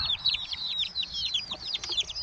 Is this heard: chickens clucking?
yes